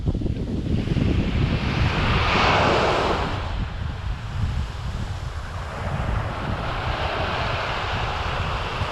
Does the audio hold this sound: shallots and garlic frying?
no